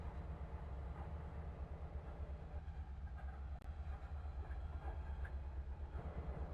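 A train rolls and accelerates slowly in a continuous low rumble with faint rail clatter, steady and fairly quiet throughout.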